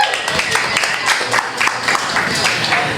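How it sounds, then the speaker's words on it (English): A live audience claps for the Columbus Cottonmouths after the team's first win of the season. The applause is dense and steady for the whole stretch, with no clear voices rising above it. "give them a nice round of applause"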